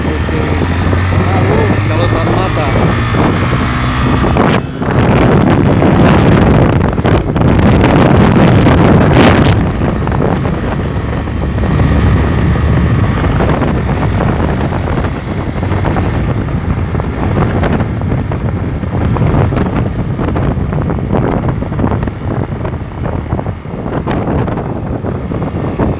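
Strong wind at an outdoor cattle fair in Tabira, Pernambuco, roars and buffets the microphone nonstop for the whole stretch, loud and close, with people talking underneath and occasional engine noise.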